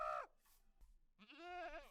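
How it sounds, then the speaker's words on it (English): Goat screams in Minecraft, two shrill bleating cries, a short one at the start and a longer wavering one after a brief pause, close and fairly loud with no talk. "Was that a goat that just screamed?"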